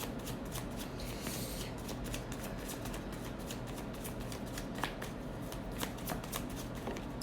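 A tarot deck is shuffled close by, a continuous riffling flutter broken by sharp card snaps, with no talk over it.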